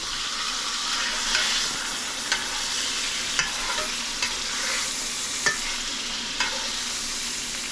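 Salmon fries in olive oil in an iron skillet, giving a steady, close sizzle with a few sharp pops and spatters scattered through it. No one speaks.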